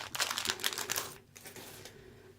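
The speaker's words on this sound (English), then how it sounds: "gotta grab my C-clip out of my packet. You'll hear the crumpling." Plastic packet of Rainbow Loom C-clips crinkling close up as a clip is pulled out, a burst of sharp crackles that fades to quieter rustling.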